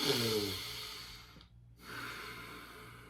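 A long, audible breath drawn in and then let out, close and breathy, with a brief quiet pause between.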